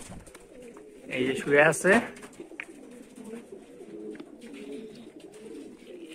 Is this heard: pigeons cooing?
yes